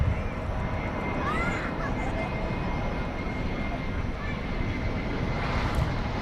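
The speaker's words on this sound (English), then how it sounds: "There's a 777-300ER." A Boeing 777-300ER jet airliner rumbles at night, a steady, fairly distant engine drone with faint higher whines.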